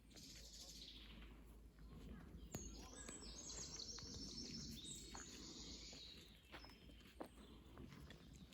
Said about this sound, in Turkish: Umarım kuş sesleri fazlaca duyuluyordur.